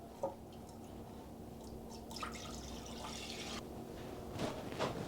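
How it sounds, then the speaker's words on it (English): White wine poured into a pan to poach pears, a soft steady trickle and splash close by in a quiet kitchen. "I got some white wine here. Here I go. 500 ml of white wine."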